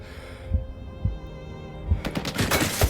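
Scattered gunshots in the video game S.T.A.L.K.E.R. 2, firing across a base: isolated sharp bangs at first, then a denser burst of several shots near the end, moderately loud, with no voices.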